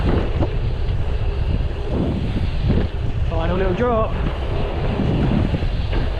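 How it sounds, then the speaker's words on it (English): Wind buffets the microphone steadily through the whole stretch, a loud low rumble with a voice speaking briefly in the middle. "it's a slight bit windy today"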